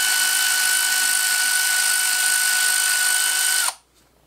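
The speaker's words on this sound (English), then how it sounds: "now I should be able to just undo those bolts" A power drill spins steadily at high speed while undoing alternator bolts during a car repair, one continuous loud whine for about three and a half seconds before cutting off abruptly into silence.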